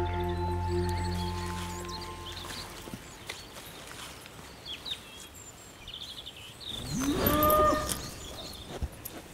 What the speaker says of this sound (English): Stern comes from a breed of small, hardy cows that arrived in Brittany at the time of the Viking invasion.